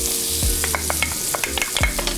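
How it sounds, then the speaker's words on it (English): Shallots and garlic sauté in butter in a pan with a steady, close sizzle, broken by a few quick scrapes and stirs. "I want to saute that up"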